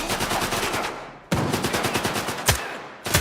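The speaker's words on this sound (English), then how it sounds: "I'm going to shoot him in the leg till he goes down" Automatic gunfire in S.T.A.L.K.E.R. 2 rattles out in rapid bursts, a long rolling string of close, loud shots, then a fresh burst, a single heavy bang and another volley.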